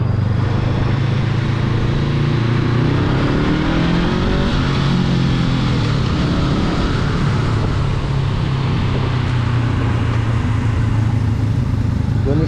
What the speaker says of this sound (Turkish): Mesela şu an ikinci vitesteyim. Gaza açabilirsem inşallah açacağım.